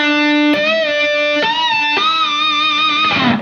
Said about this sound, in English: It gives you all those really high chimey notes.